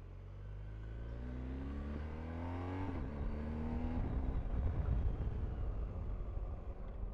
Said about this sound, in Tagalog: Malakas yung engine brake niya guys.